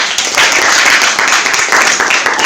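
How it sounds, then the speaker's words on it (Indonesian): A classroom group claps for a presenting student group, a short burst of fairly close, full applause that pulses unevenly with a faint voice underneath. "berikan tepuk tangan"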